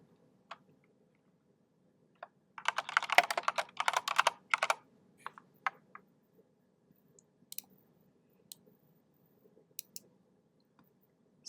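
Close, fast typing on a computer keyboard while entering a line of text in Photoshop, a dense two-second burst of clicks followed by scattered single keystrokes.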